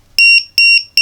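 A cheap battery monitor module sounds its low cell voltage alarm in three loud, sharp, high beeps, evenly spaced and close by.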